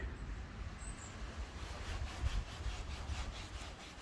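Clay bar rubbing across a freshly washed Peugeot 207cc roof, a steady close gritty scraping with rhythmic back-and-forth strokes and no talk.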